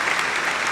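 Brief burst of house applause from a studio audience on a chat show, a steady wash of clapping under a second long.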